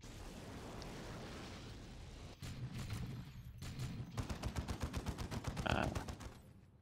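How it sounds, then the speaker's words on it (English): Rapid game gunfire from a squad with sniper rifles and grenade launchers in the strategy game Dawn of War 2, starting as a steady roar, then quick regular bursts of shots with a louder blast near the end. "Oh my god, the whole squad has grenade launchers."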